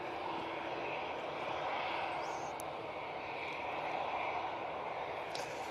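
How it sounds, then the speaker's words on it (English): An ATR turboprop airliner touching down at Manchester Airport, a steady broadband engine and propeller roar holding at a constant distance through the whole stretch, with no voices. "There's the ATR touching down."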